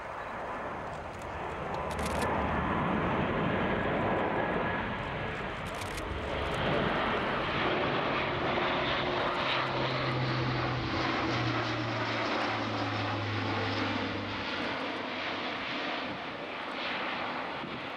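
An Airbus A400M turboprop transport flies past with its undercarriage down, its loud propeller drone swelling and holding steady across the pass, with a low whining tone emerging midway.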